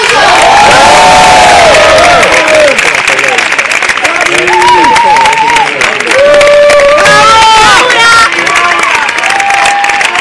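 A large concert crowd in Taormina applauds and cheers loudly for the technicians, dense clapping mixed with whoops and shouted voices that stay at full strength throughout.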